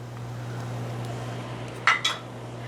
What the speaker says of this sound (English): I'm going to go ahead and add in all of our cut up veggies.